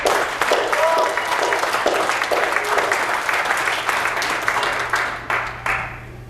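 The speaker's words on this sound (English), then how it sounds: "Let's give a hand and applause for all the women out here right now." Audience applause for the women in a crowd, a broad sustained patter of many hands with a low steady hum beneath, faint voices mixed in, tapering off toward the end.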